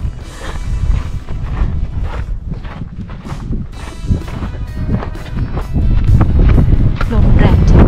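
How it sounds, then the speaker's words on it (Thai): Strong gusts of wind buffet the microphone in the Death Valley desert, a loud continuous rumble that swells and surges, growing heavier toward the end, with a voice speaking over it. "ลมแรงจริง"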